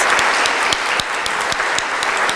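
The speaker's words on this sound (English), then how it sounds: "please give him a round of applause" Steady, enthusiastic applause from a crowd at a Milwaukee–Zadar sister city signing ceremony, dense clapping filling the room without pause.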